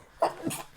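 A person sneezes once nearby, a sharp sudden burst followed by a short breathy tail, heard alone without any talking.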